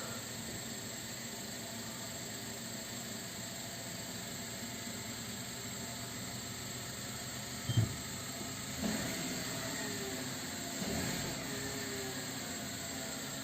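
A Renault Megane 1.2 engine with about 37,000 km idles after start-up, giving a steady, faint, even hiss-like drone with a few soft bumps near the end.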